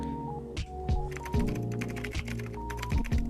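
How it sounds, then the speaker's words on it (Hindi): A typing sound effect is added to on-screen text: rapid, close computer-keyboard clicks and clacks in an uneven rhythm over a low, droning music bed. "we have a very nice typing effect in our text"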